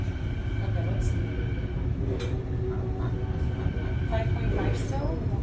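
A Vancouver TransLink transit train rumbles steadily with a constant low roar and faint high squeals and clicks, while a voice speaks over it.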